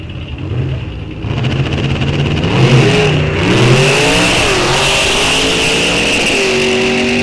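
A 1964 Chevy II drag car with two carburetors poking through the hood roars off the line at a drag strip, its engine note loud and rising through a climbing rev then holding a steady high drone.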